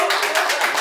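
A small crowd gives a round of applause for a crew member being introduced on a casual talk show, dense steady clapping lasting under a second, fairly loud and close, with no speech over it.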